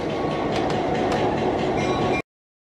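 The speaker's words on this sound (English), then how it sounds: "Never board a train if it is moving too fast." A moving train rolls steadily on rails with a continuous loud rumble and faint clatter, close by, then stops abruptly after about two seconds.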